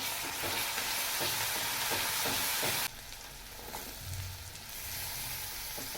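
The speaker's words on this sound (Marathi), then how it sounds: "अद्रक लसूण आणि कोथिंबीरची पेस्ट टाकायची तर एक चमचा भरून टाकते व्यवस्थित मिक्स करायचं" Ginger, garlic and coriander paste fries with onions for a fish curry, a steady close sizzle broken by rhythmic stirring scrapes, then the hiss drops abruptly partway through and continues quieter with occasional clinks.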